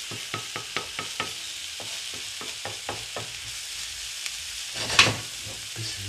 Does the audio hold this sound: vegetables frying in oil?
yes